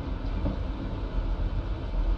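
A train rolls steadily in The Walking Dead: The Final Season game, a continuous low rumble with faint rhythmic clatter, even and close, with no voices over it.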